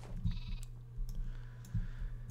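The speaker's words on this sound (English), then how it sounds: "Got my family of sheep now." Sheep in the SolitaryCraft video game bleat in two or three short, nasal calls spaced about a second apart over a low steady hum, with faint clicks between them.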